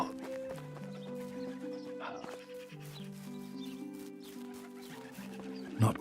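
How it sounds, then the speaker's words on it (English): Horses in Medieval Dynasty, heard as faint clopping and a whinny set low under a steady, melodic medieval game soundtrack, with a slightly louder bump at the very end. "Whoa, horses!"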